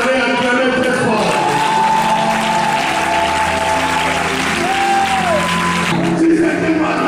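A church congregation at an alliance-day service applauds and cheers loudly in a continuous roar of clapping and voices, with a sustained tone rising over it throughout.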